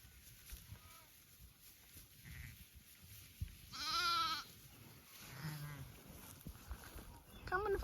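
Young lambs on a cold winter farm bleat in several short, wavering calls, one loud and close in the middle and others near the end, over quiet outdoor background with faint voices.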